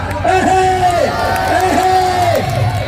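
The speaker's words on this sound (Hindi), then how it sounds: "जोरदार तालियों स्वागत किया जाए" A crowd cheers at a kushti wrestling bout in an Indian dangal, its roar steady and loud throughout while a voice speaks over it.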